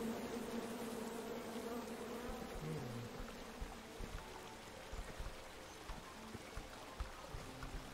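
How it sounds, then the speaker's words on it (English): A swarm of bees buzzes in the King's Quest video game, a faint, steady drone that runs on without a break and with no speech. "Come at me, bees!"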